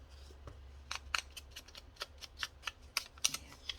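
Craft scrap paper torn by hand in a series of short, crisp rips, fairly close and quiet, with several bursts in a row and no talk.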